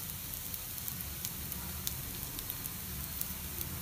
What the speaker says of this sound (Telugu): కాలింది కదా, ఇప్పుడు రెండో వైపు కూడా కాల్చుకుందాం।